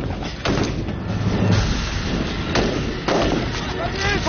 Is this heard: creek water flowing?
no